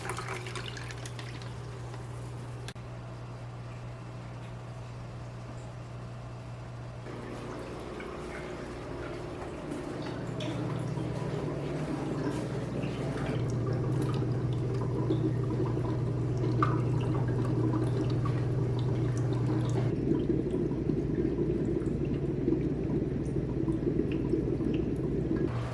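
Fish and water are poured from a bag into a small container during aquarium tank maintenance, a soft, continuous liquid trickle that grows fuller and steadier over the steady hum of nearby equipment.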